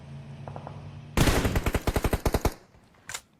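Gunfire from the PUBG Mobile battle royale in a full esports match: a loud, rapid automatic burst of roughly a dozen evenly spaced shots, then a lone shot a moment later.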